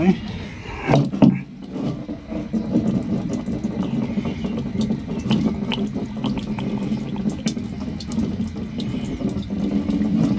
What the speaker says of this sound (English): Rinse it out a couple of times. Make sure you got all the stuff out of it.